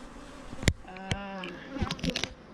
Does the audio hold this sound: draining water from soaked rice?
no